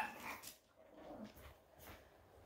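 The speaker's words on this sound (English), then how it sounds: "every time I do a video, next door's dog starts going off down the corridor" A neighbour's dog barks and whimpers somewhere down a corridor, muffled and moderately distant, in a few uneven bursts with no talking.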